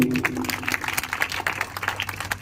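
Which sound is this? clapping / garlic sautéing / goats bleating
clapping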